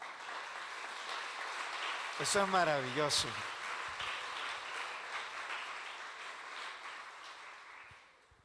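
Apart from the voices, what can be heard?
congregation applause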